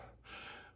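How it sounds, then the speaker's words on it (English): A single sharp breath drawn in on a vowel, a quick airy gasp that swells and fades within a moment, close and fairly quiet. "practice breathing in on that vowel"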